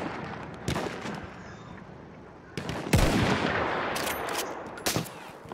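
Gunfire in the Battlefield 1 multiplayer game, with several distinct shot bursts and sharp cracks standing out over a steady, noisy battlefield background.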